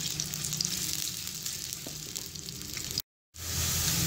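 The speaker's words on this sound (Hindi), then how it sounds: "अब मैं इसके अंदर प्याज ऐड करूँगी और प्याज ऐड करने के बाद मैं इसे अच्छे से भून लूँगी।" Chopped onions fry in a hot pan for an aloo mongray dish, giving a steady, close sizzle with a faint crackle that cuts out briefly and then resumes just as strongly.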